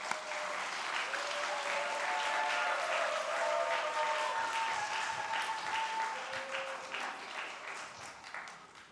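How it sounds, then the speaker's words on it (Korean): A church congregation at a Friday worship gathering applauds at length, with dense, sustained clapping from many people and faint voices or tones running beneath it before it tapers off. "우리 말씀을 읽고 또 설교할 박수 한번 하겠습니다."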